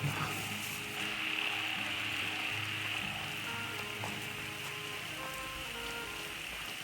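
Steady, dense rain pours down on rice fields in a continuous hiss, with scattered drips and faint clicking mixed in; no voices.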